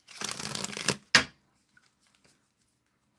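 Tarot cards are shuffled by hand in a close, crisp riffling burst lasting about a second, followed by a sharp single snap of the deck, then near silence.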